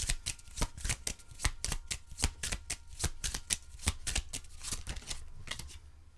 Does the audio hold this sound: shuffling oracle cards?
yes